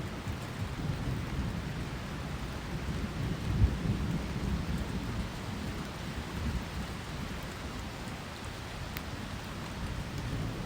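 A thunderstorm over a valley brings steady heavy rain hissing down on surfaces, with low rolling thunder rumbling throughout and one brief louder thump near the middle, and no voices.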